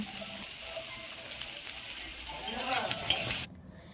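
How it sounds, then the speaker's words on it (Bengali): Chopped radish frying in a pan for spinach chorchori gives a steady close sizzle with soft stirring, which grows louder near the end and then cuts off abruptly. "তারপরে এটাকে ভালো করে ভেজে নিয়ে তার মধ্যে দিয়ে দেবো মূলো কুচোগুলো"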